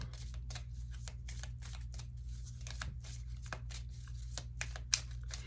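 Tarot cards being shuffled in quick repeated riffles, close up and moderately quiet over a steady low hum, with no one speaking.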